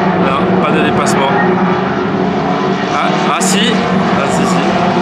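Race cars at the Paul Ricard circuit roaring past in a steady, loud engine wash, with people talking over the noise.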